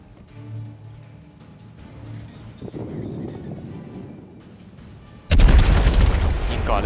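The battleship Yamato's main guns in World of Warships let out a sudden heavy, booming salvo with a rumbling tail, following a quieter stretch of low engine and ambient game noise.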